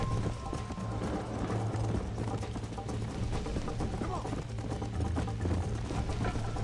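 Rhythmic clip-clop of horse hooves in Red Dead Redemption runs throughout with a low steady hum, fairly loud and continuous, with no clear neigh standing out.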